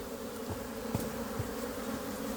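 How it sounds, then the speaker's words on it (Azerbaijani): Honeybees from a backyard garden apiary buzz in a steady, low, continuous drone, moderately distant, with faint occasional knocks and no talk. "həyətdə eşidirəm ki, yenə vız-vız"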